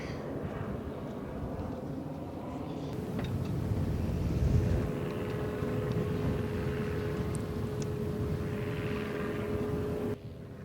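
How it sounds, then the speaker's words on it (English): A steady, loud drone of a propeller aircraft passing overhead in Miami, a continuous engine roar with a faint wind rush and no talking. "there's so many daggone planes, man"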